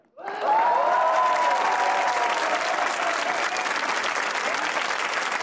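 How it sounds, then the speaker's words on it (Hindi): Studio audience applause on a Pakistani comedy talk show rises suddenly into a full, steady burst of clapping, with a sung or held vocal tone running underneath in the first seconds. "तो बजाइए तालियां"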